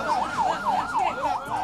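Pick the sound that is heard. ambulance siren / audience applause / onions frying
ambulance siren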